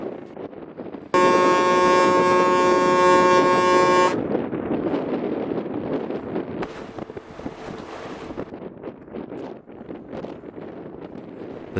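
A boat under way in fog on the North West Passage: steady wind and water noise throughout, with a loud harmonic horn-like tone sounding for about three seconds near the start.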